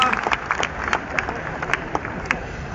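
A live talk audience gives a small round of scattered clapping, moderately loud and uneven, with distinct individual claps standing out over a murmuring crowd.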